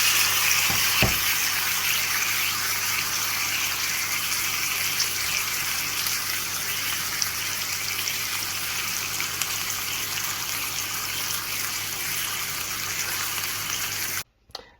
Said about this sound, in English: Let's have a listen to the sizzle.